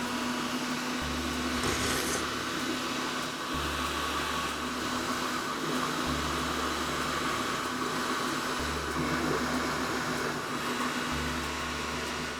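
A Kenwood stand mixer whisks sugar into meringue for a sago pudding, a loud, steady motor whir and airy whisking that run on continuously, with a low rhythmic thrum pulsing every few seconds.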